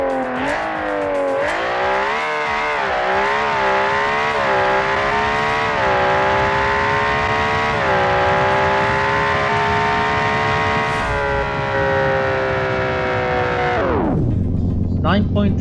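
A BeamNG.Drive drag car with a naturally aspirated 3.3 liter Boxer 6 engine making 447 horsepower, rear-wheel drive, revs hard through rising gear pulls with shifts, loud and close, then abruptly drops away at the end.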